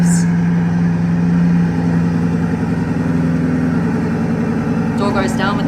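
A Bugatti engine starts and settles into a steady, loud idle with a deep, low hum held close by for several seconds, while a voice is heard briefly near the end.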